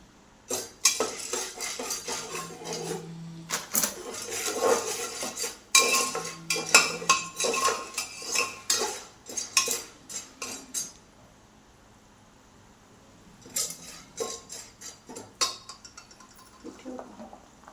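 Popcorn tossed with turmeric and salt in a pan at home, a metal utensil scraping and clinking in repeated bursts of close, bright stirring, pausing briefly midway before resuming.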